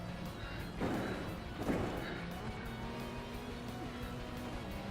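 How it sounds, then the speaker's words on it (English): A stock car scraping and thudding as it bottoms out through a curve in the iRacing sim, two heavy bumps over a steady engine drone and broadband road noise. "Just hear that car bottoming out on that curve."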